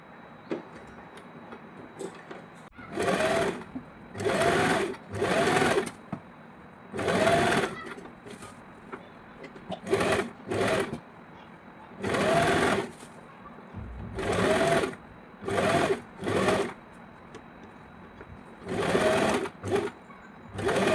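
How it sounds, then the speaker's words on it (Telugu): A sewing machine stitches lining and main fabric together for a net long frock, running in about a dozen short, loud bursts of rapid whirring separated by brief pauses. "లైనింగ్ ఫ్యాబ్రిక్ మెయిన్ ఫ్యాబ్రిక్ కలిపి ఒక స్టిచ్ వేసుకుందాం"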